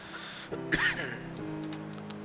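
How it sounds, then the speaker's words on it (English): A single quiet cough with a rough throaty edge, close by, surrounded by faint background hum. "Why do I keep coughing?"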